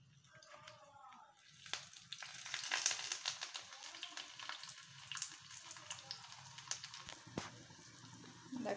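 Papaya-tree pakoras fry in oil with a faint, continuous bubbling crackle that swells a little midway, heard from a distance with a brief murmur of voice near the start.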